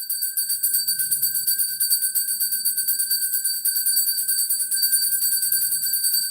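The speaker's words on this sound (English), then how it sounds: "I'm going to ring that fucking bell" A bell rings without a break, a bright, rapid trill that pulses evenly for several seconds at a steady, fairly loud level, with only a faint murmur underneath.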